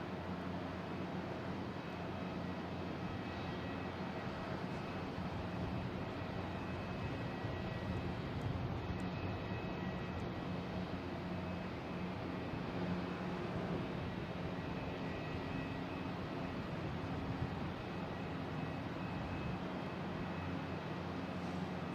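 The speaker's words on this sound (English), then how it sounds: "next coming in, United Airlines E175 coming in from Newark" A United Airlines Embraer E175 jet arriving at Boston Logan from Newark gives a steady, moderately distant engine roar that holds evenly throughout.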